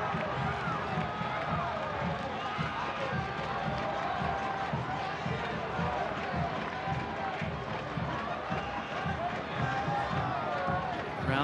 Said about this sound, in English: Crowd that has been buzzing all evening.